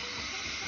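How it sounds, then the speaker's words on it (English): Homemade stuffed, linked and twisted hot dog sausages hitting a pot of boiling water, a steady close hiss and bubbling rush that fills the whole moment without any voices. "we'll just pop them in boiling water"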